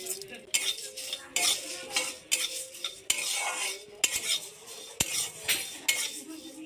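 Moong dal being fried and stirred in a pan with cardamom, clove and bay leaf: repeated scraping strokes and metallic clinks of a spoon against the pan, with a light sizzle, close and fairly quiet.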